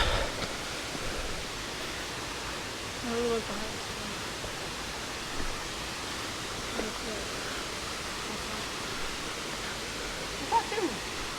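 Steady broadband rushing of Waimoku Falls on the Pīpīwai Trail in Kīpahulu, Hawaii fills the scene, constant and fairly loud, with a few faint voices briefly breaking through.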